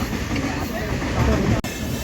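A train rumbles along the rails near Panipat Junction in India with a steady low clatter, a brief dropout near the end, and no clear talking.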